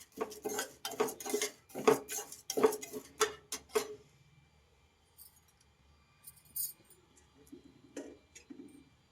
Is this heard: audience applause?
no